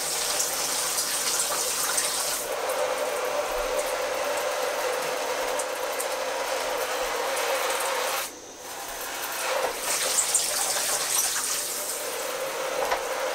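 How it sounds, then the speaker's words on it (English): Water drains from a DIY resin print washer through a hose in a steady, rushing wash, close and continuous. It dips briefly near the end and then resumes. "We're draining out our hose."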